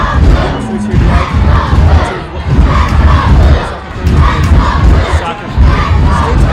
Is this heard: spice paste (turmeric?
no